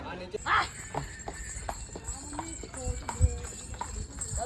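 A Rajasthani horse carries a rider at Seven Wonders park in Ajmer, its hooves clip-clopping in an uneven, steady walking rhythm under people talking nearby.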